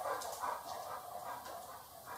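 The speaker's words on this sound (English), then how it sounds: "Same dog as last video." A very old dog barks and yips in short, overlapping bursts at moderate loudness, the sound rough and continuous across the whole stretch.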